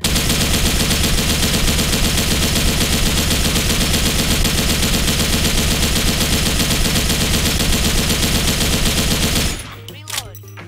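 RPK74 light machine gun fitted with an EOTech sight in Special Force 2, emptying a full magazine in one unbroken, loud, rapid automatic burst that stops abruptly near the end, leaving a few faint mechanical clicks.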